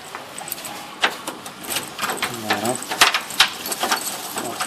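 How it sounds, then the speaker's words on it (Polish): A house door is unlocked and opened, with keys jangling, a lock mechanism clicking and the door moving, all close by under steady background noise and some voice sounds. "Otwieramy drzwi."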